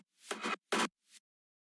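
A heavily processed rim shot or stick sample with a tonal ring, heard as three short, bright, noisy hits spaced unevenly within about a second, alone and fairly quiet.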